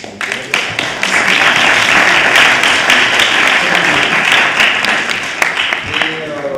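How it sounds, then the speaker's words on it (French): A roundtable audience in Aubervilliers applauds Yacine after his testimony: dense, sustained clapping from many hands that swells quickly, holds steady for several seconds and thins slightly at the end, with a voice faintly underneath. "Vous pouvez l'applaudir"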